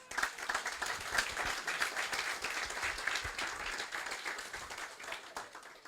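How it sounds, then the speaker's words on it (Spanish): A church congregation applauds steadily for nearly six seconds, a dense, even wash of many hands clapping close by, with no speech over it. "ustedes tienen un aplauso para el Señor"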